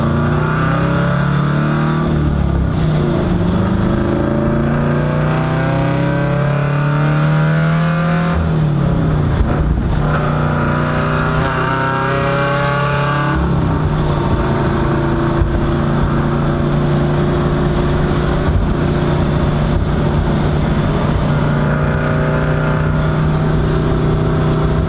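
A car with a valved exhaust drives along, its engine droning loud and close with a steady low tone, rising and falling as it accelerates and shifts, with no talk.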